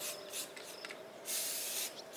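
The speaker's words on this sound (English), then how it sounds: "Spray, lift, spray, lift" Short bursts of aerosol spray paint applied to a bare metal splitter wedge to turn it bright red, with a spray-and-lift rhythm: several hissing puffs and one longer blast, close and fairly quiet.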